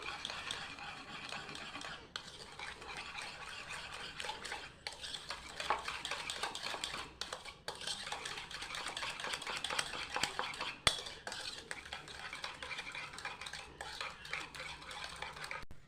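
Eggs and sugar beaten together in a bowl with a hand blender for a Christmas cake make a steady, close clatter and whirring scrape that runs continuously with small bumps and knocks.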